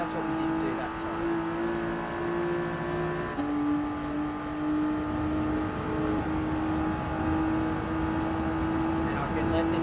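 A Bugatti Veyron race car engine in the video game Gran Turismo Sport holds a steady high drone, with a shift in pitch midway as it continues, while other engine sounds blend in.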